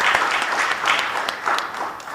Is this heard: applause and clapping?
yes